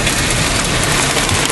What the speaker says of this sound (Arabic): كميات البرد اللي موجودة غير عادية